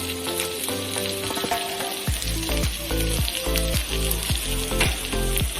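Tomato pieces sizzle loudly with sautéed onions in a hot pan for a plantain veg fish masala, a steady close crackle with brief stirring scrapes and no talking.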